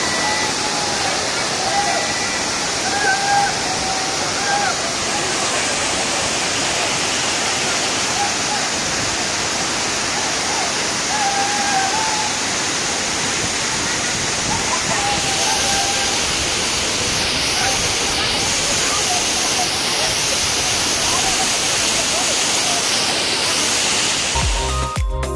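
Courtallam main waterfall roaring as a continuous dense rush of water, loud and close, steady for the whole stretch with crowd sounds faint underneath.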